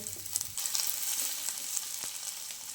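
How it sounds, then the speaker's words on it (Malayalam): Finely chopped onion with cabbage and capsicum frying in hot sunflower oil for chicken fried rice, giving a soft, even sizzling hiss with a few light stirring clicks, fairly quiet and close. "എണ്ണ ചൂടായി വന്നിട്ടുണ്ട് ഇതിലേക്ക് ഒരു സവാള ചെറുതായി മുറിച്ചത് ചേർത്ത് കൊടുക്കാം"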